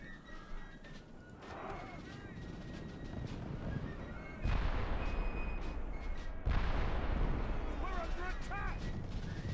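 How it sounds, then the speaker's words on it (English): Cannon fire in the Medieval 2 English Civil War mod video game, repeated heavy booms with the second and third blasts near the middle, layered over battle noise, horse sounds and game effects, while a person talks. "our cannons are not amazingly accurate"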